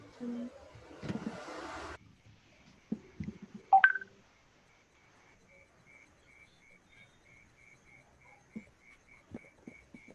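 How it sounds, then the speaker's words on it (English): Electronic telephone tones, a brief dialing chirp followed by a long evenly spaced series of short pulsing beeps, faint against a quiet room with scattered knocks and a brief burst of noise. "It was the phone from another world."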